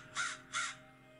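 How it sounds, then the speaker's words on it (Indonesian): Crow cawing twice in quick succession, two harsh, clear calls at moderate distance against a quiet background. "Suara burung gagak terdengar."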